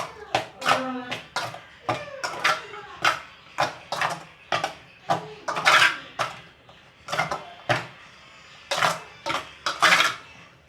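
Lemon pickle ingredients being mixed with turmeric powder in a dish, heard as a dozen or so crisp, rhythmic scraping and clattering strokes, close and fairly loud.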